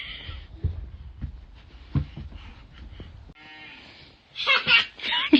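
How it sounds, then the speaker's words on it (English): A cow moos in a rain-soaked farm setting, with a drawn-out low call midway, preceded by scattered thumps and handling noises and followed by a few louder, higher bellowing bursts near the end. "Did she moo at you?"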